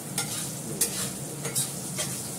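Potatoes fry in a pan with a steady, bright sizzle, punctuated by four or five quick stirring scrapes, close and even in loudness without any talking.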